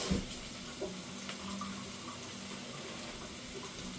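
Steady running tap water rinsing cooked pasta shells, a soft continuous splashing stream with faint clinks near the start, no talking.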